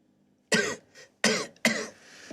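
A woman coughs three times in harsh, wet bursts, close by, with short pauses between them and a faint throat sound after.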